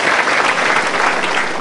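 Loud, close audience applause welcoming a speaker onto a stage show, a brief dense burst of clapping with no talk over it.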